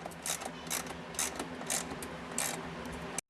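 Hand ratchet clicking in several quick bursts, close and clear, as it snugs 10mm bolts while mounting a part on a Nissan 240sx S13.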